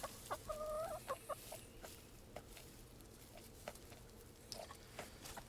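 Hens on a snowy homestead give a few short clucks and a brief squawking call near the start, followed by quieter scattered pecking and rustling sounds outdoors.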